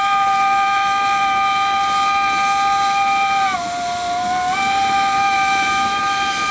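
Two narrow gauge steam locomotives, a Kalahari and an NGG 13 Garratt working as a doubleheader, sound a loud, sustained chime-like steam whistle that dips briefly in pitch midway before returning, over a steady hiss.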